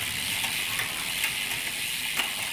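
Freewheel of a SAVA HISPEED Expert carbon road bike with Shimano 11-speed, 22-speed gearing, ticking in light, evenly spaced clicks over a constant hiss.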